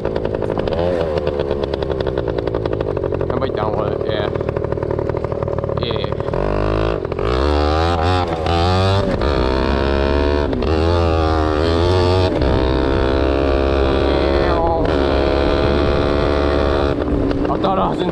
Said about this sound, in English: we're just gonna go to the end right here, and then turn around, do a couple wheelies